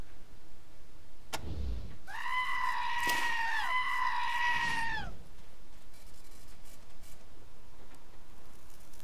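Goats bleating while being herded: one drawn-out, wavering bleat lasting a few seconds stands out over quiet background noise, with a short sharp sound just before it.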